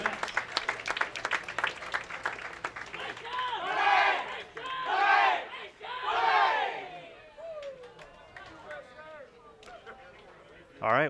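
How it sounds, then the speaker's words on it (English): A crowd at the 2016 World Bowling Youth Championships doubles finals cheers and whoops in several loud swells. Some hand clapping and voices come through between them, and after a quieter stretch the noise fades out. "Ladies and gentlemen, have a nice round of applause for the finalists."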